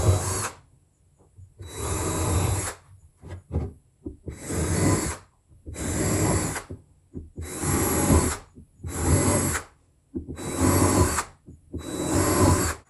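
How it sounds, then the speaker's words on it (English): A power drill pre-drilling oak whirs in about seven steady bursts, each a couple of seconds long with short pauses between, loud and close. "I'm just pre-drilling these right now so I don't split out my oak"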